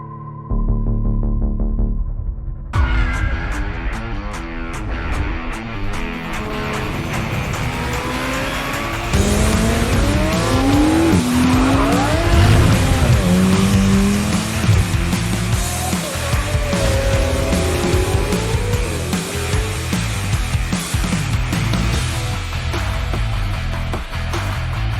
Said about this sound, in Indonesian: Porsche 718 dengan suara paling merdu yang pernah ada.